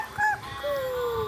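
Baby imitating a chicken with a short two-part vocal call, a brief high note followed by a longer descending tone, close and alone.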